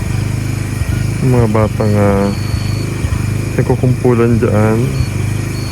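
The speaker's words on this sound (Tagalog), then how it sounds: "naka-generator kami, medyo maingay" A generator drones steadily at night after rain in a dark rural spot, a constant mid-pitched engine hum close by beneath someone talking.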